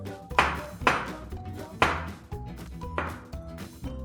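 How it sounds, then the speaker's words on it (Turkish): A knife cuts the tips off strawberries on a board in five crisp, evenly spaced chops, close and distinct, with a faint ringing note after each. "Şimdi tüm çilekleri aynı işlemi yapacağım. Şöyle ucunu kesip düzeltiyorum."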